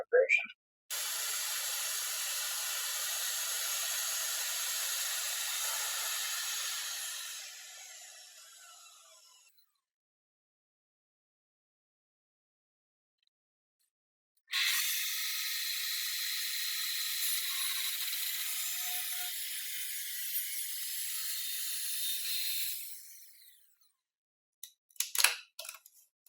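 A hand saw cuts through wooden trim in two long bursts of steady rasping strokes separated by a pause, with a few brief knocks at the end, close up.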